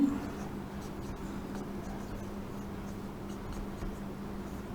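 During a history lesson, a teacher writes notes, making a faint, continuous scratching that runs steadily under a low room hum.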